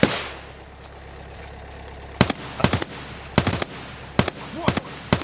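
Gunfire in the video game Escape From Tarkov: after a quiet stretch, a rapid run of sharp, loud shots cracks out in irregular bursts, some close together and some spaced apart, with a low background hum.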